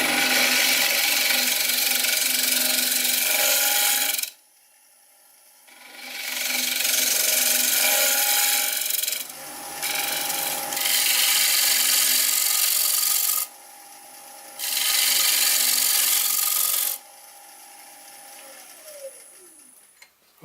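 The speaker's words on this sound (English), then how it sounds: "I've sanded it to 400" A wooden bowl spinning on a lathe is sanded in several bursts of loud, steady rubbing hiss, separated by near-silent pauses as the abrasive is lifted away. The last stretch sounds quieter as the lathe winds down.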